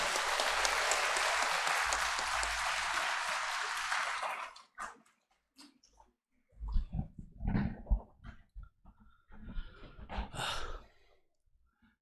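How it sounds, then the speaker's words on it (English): A seminar audience gives a loud round of applause for about four and a half seconds, welcoming a speaker. The applause stops suddenly and is followed by quiet shuffling and then someone speaking. "With a round of applause, please welcome Dr."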